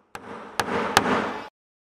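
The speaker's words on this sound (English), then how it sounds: "you can just attach them by hammering them in" Three sharp hammer blows drive small nails of a sawtooth hanger into the back of a reclaimed pallet-wood clock, each strike a crisp close knock in quick succession with no talk.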